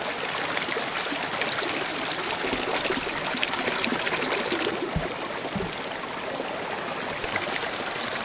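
Water rushes steadily through a gold prospecting sluice box with deep V black matting, a dense, even outdoor flow that stays close and continuous throughout.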